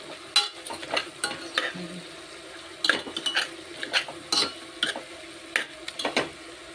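Masala rice gets a phodni tempering in a home kitchen: a series of sharp metal clinks and scrapes as a spoon stirs the pot, over a faint, soft sizzle.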